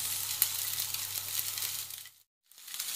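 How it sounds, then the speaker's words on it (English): Sausages frying in a pan for a sausage and vegetable egg hash give off a steady, even sizzle with a few small clicks, broken by a brief silent gap before the sizzle resumes. "Get that in there. And let that fry off for a few minutes."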